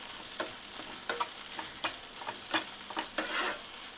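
Sauces with red chili sauce, soy sauce and Schezwan masala being stir-fried in a pan for paneer fried rice, a steady hiss broken by repeated scraping stirs that come in quick bursts every half second or so.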